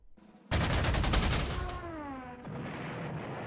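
Gunfire in the WWII strategy game Panzer Corps 2 as an enemy unit is shot down: a sudden loud burst of rapid shots, followed by a falling whine and a fading rumble.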